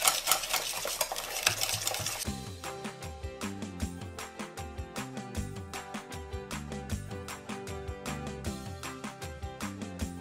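Pureed marinade being mixed with sauce in a large bowl, a spoon knocking and scraping the bowl in a quick, steady rhythm, close and moderately loud over background music with no talking.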